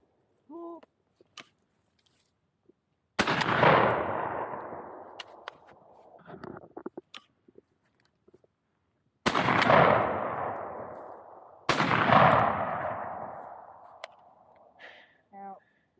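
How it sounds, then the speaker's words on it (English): Outdoor gunshots at a country birthday, three loud sharp reports spaced several seconds apart, each with a long echoing decay, with quieter clicks and handling noises and brief voices between shots. "You gonna let JoJo shoot?"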